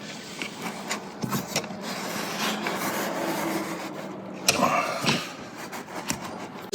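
Metal Leafield valve being tightened with a flat tool: scraping, rasping rub with a few sharp clicks and knocks, fairly close and moderately loud, no talk.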